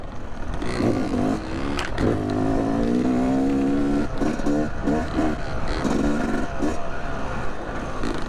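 A Yamaha YZ250X two-stroke dirt bike engine buzzes and revs unevenly while being ridden over flat ground, loud and close, the throttle rising and falling in short bursts, with some talk over it.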